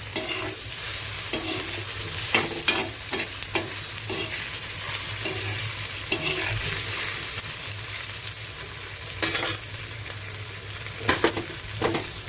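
Onion paste cooking in a pan for a Marathi-style clam masala, sizzling steadily with repeated scraping stirs from a spoon, close and clear, with no talking.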